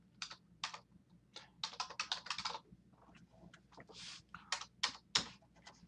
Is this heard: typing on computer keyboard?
yes